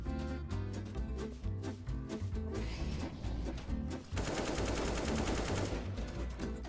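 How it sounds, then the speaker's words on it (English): Automatic AK rifle fire in Counter-Strike 2, sustained rapid bursts at close range over game music and effects, with a denser continuous burst near the end. "the AK sounds so nice"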